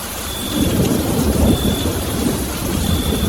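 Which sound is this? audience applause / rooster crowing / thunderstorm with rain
thunderstorm with rain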